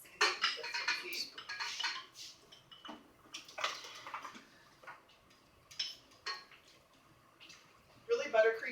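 A little spoon scraping and clinking through buttercream in a bowl, with light metallic taps and smears in irregular bursts, a voice talking intermittently.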